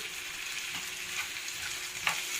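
Potatoes with hot chili peppers sizzle steadily in a frying pan while a utensil stirs them, with a louder scrape near the end; no one speaks.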